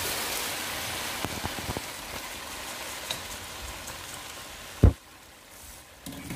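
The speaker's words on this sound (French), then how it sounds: "j'ajoute dans de l'huile, j'ajoute maintenant mes 1 kg de riz" A kilogram of rice is tipped into hot oil with grilled tomato, giving a steady soft sizzle and crackle with a few sharp ticks and one loud thump as the grains drop in.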